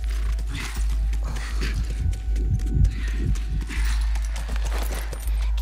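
Hooves clip-clop steadily in The Last of Us video game as a horse walks, accompanied by creaking and a low rumble, with a constant deep hum running beneath.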